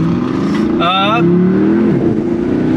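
Steady engine drone from a 2020 Porsche Panamera Sport Turismo GTS sedan, heard from inside the car, with a slight rise and fall in pitch. A brief voice-like sound breaks in partway through.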